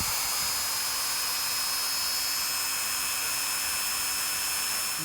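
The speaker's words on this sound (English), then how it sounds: "Clean these up with a good old Dremel." A Dremel rotary tool works at metal dashboard brackets from a Fiat Uno Mk2 being converted to Mk1 Turbo, giving a steady high-pitched whine that holds throughout, close and loud, with no talk.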